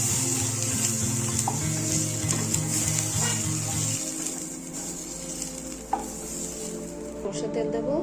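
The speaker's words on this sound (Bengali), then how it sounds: "পটলগুলো ভালো করে উল্টে পাল্টে ভেজে নেব।" Pieces of pointed gourd (potol) fry in hot oil in a pan, giving a continuous sizzle with soft stirring and turning noises, while a low background hum runs for the first half and then stops.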